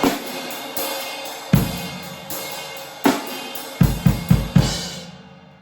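Quiet melodic black metal drum part played alone, with sparse, ringing strikes on the ride cymbal and drums, each hit decaying slowly, a quick cluster of four near the end before a long fade.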